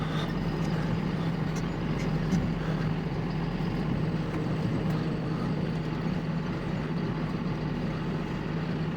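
A Topcon autosteer tractor turning at the headland of a field gives off a steady, loud engine drone that holds unbroken from start to end, with no voices over it.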